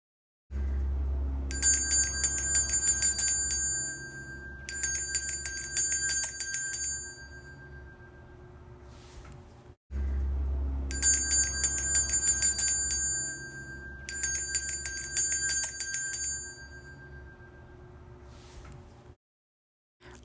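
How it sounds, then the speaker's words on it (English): A bell is struck twice, each time ringing out with a bright, sustained metallic tone that slowly decays before the next strike, heard alone with no talking. "I'm going to ring a bell. When you hear the bell, pay attention to the ring"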